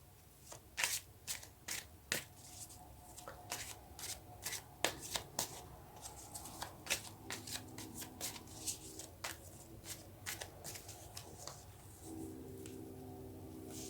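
Tarot cards being shuffled by hand at close range, soft riffling and slapping card sounds in irregular bursts over a quiet room hum.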